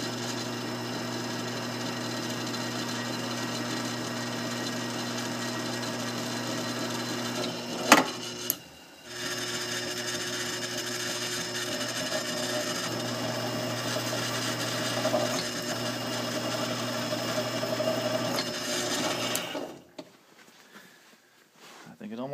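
A dull center drill bores through metal on a ring roller fitted with a hydraulic motor, a steady humming machine drone with a sharp knock partway through, stopping near the end, with a person talking over it.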